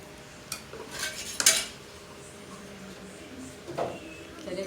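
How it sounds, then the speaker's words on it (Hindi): Dishes, pots and pans being washed in a home kitchen, with a few sharp metallic clinks and clatters spaced apart over low background hum. "मैं बर्तन धोती हूँ"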